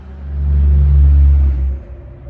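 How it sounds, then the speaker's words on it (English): A heavy truck rumbles past nearby, its deep engine roar swelling loudly and then fading away. "It was a very loud truck."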